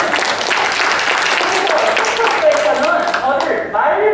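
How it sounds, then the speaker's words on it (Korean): An audience at a business academy lecture claps together in a dense, sustained round of applause, loud and close, with a voice speaking briefly over it. "박수!"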